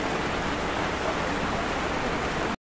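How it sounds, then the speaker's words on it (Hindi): Steady rain falls near Kedarnath in the Uttarakhand mountains, a dense, even hiss with no pauses and nothing else breaking through, cutting off abruptly at the end. "हमें दूसरी बार बारिश मिली"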